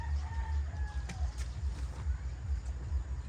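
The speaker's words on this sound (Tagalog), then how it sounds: "let me go to the chickens." Backyard chickens cluck and call in a short burst of bird sounds over a steady low outdoor rumble, moderately close, with no talking.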